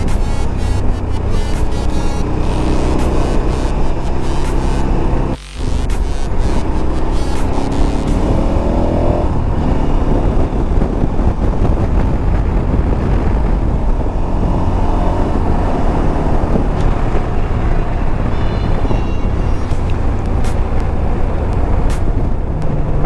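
A motorcycle ridden along a forest road near the Dutch–Belgian–German three-country point gives a loud, continuous engine drone with wind rush, steady throughout with shifting pitch.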